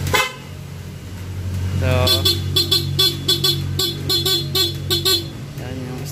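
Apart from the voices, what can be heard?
stock car horn honking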